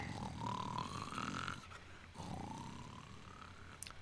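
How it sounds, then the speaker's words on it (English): Luigi snoring in Luigi's Mansion 3, a low rumbling snore with a rising nasal whine, heard as two drawn-out breaths with a brief pause between, moderately quiet against the game's ambient sound. "Luigi stopped snoring"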